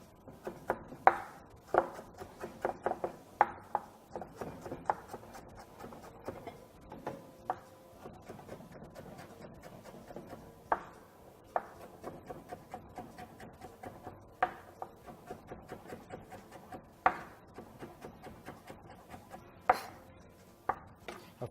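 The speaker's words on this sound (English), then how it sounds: "Going to start with the carrots. Then I'm going to slice them." Carrots sliced with a knife on a board for stir-fried vegetables, giving a steady run of crisp, close knife taps, some louder than others, with no talking.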